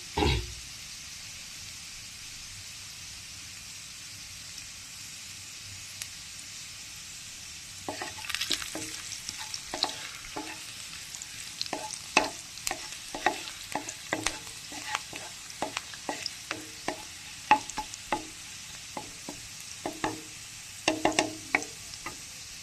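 Onion and garlic fry in a pan with a soft, steady sizzle, then become busier and louder as a spoon stirs and scrapes in frequent sharp clinks and taps, with no voices.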